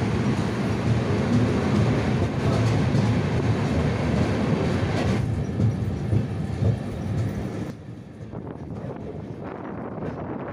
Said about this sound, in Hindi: अभी टाइम हो रहा है 7:24 और हम लोग की ट्रेन भुवनेश्वर स्टेशन से डिपार्ट कर रही है।